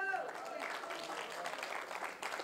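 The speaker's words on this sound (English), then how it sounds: "I thought I'd get a clap on that one." A church congregation claps during a sermon, a brief wash of many hands that follows a short spoken phrase and carries on at an even, moderate level.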